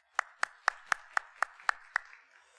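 A church congregation at a Korean afternoon worship service claps in unison: eight crisp, evenly spaced claps in a brisk rhythm, fairly close and clear, with a short reverberant tail fading after the last one.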